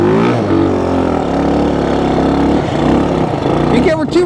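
A Honda XL175 dual-sport motorcycle revs hard in snow as its rear wheel spins, a loud, steady engine drone rising toward the end, with excited voices calling out over it.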